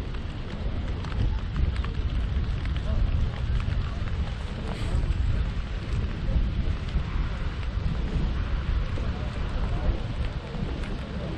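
Rain falls steadily at an outdoor pigeon fair in Kuzbass, a dense constant patter close by with scattered heavier drops throughout.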